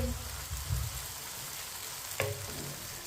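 Garlic and onion frying in oil for beef karahi, a steady close sizzle with a brief stir or spoon scrape midway, no talk.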